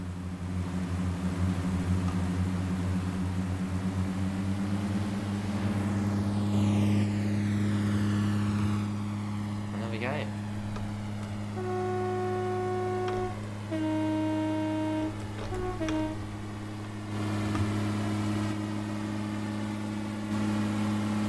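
Modern Pacer diesel train in Train Sim World on a Cardiff timetable, running steadily with a loud continuous engine drone, with several brief rising tonal whines and short horn-like tones in the middle, and no talking.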